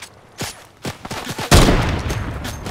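Gunfire in the Fortnite video game, several loud sharp shots in quick succession followed by a sustained burst of rapid firing, close and with no talking.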